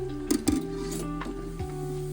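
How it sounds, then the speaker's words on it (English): Battered crappie frying in a pan, a steady close sizzle with a few sharp utensil clinks and stirring scrapes early on, no talk. "The crappie frying up from our Birchwood, Wisconsin trip."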